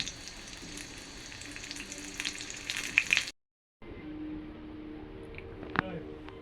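Singaras sizzle continuously as they deep-fry in hot oil, a close crackling hiss that cuts out briefly midway and then resumes, with an occasional stirring clink.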